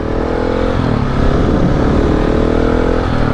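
A KTM 690 dual sport motorcycle's single-cylinder engine drones loudly and close, pulling onto a street with a sustained throaty rumble that swells slightly in revs midway and stays strong throughout.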